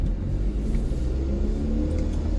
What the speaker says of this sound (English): Take this thing for a little spin around the block real quick.